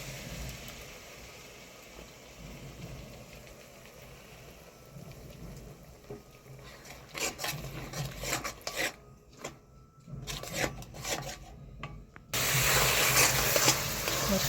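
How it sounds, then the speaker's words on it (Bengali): Spice paste being stirred and fried in a pan for a Bengali fish doi kalia: a steady scraping, sizzling rasp with intermittent stirring strokes that grows louder and harsher toward the end. "মশলাটা ভালো করে নেড়ে চেড়ে ভেজে নিচ্ছি।"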